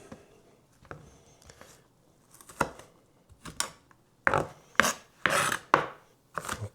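Chopping ingredients with a knife on a board for nacho dip, irregular crisp cutting strokes that grow quicker and louder toward the end, close up with no talking.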